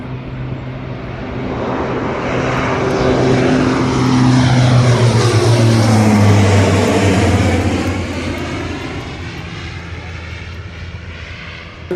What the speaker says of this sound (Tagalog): Ito din ang gagamiting eroplano sa commercial flights.